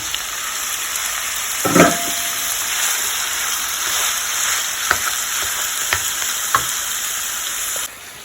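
Loud, steady sizzling of minced beef frying in hot oil, with a few scraping clatters of a utensil stirring the pan.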